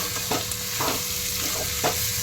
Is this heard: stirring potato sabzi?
yes